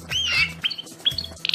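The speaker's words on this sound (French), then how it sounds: "Ce sont les chants du canari Timbrado." A Timbrado canary sings in short bright bursts: a rising warbled phrase, a couple of quick chirps, then a rapid pulsing trill at the end, heard close and clear over a faint low background hum.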